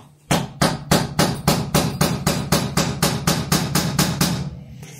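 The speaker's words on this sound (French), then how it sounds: "marteau, burin, tu te prends comme ça de face" A hammer strikes a steel chisel held against a nut on a BMW E36 M3, marking it before loosening: about fourteen sharp, evenly spaced metallic blows, close and loud, with no talking.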